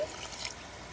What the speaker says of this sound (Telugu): కొంచెం వాటర్ కూడా వేసుకోవాలి.